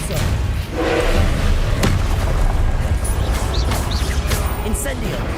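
Loud magic-spell blasts and thuds in the Hogwarts Legacy game over a continuous rumble of combat noise. Speech runs through the sounds.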